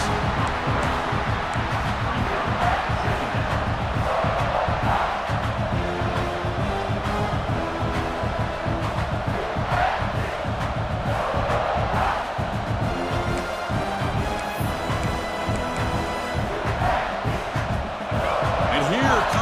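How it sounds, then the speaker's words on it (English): A college football stadium crowd roars continuously during a South Carolina versus Alabama game, a loud sustained swell of cheering and yelling with play-by-play commentary talking over it. "This crowd is trying to inspire this defense to make a big red zone stop."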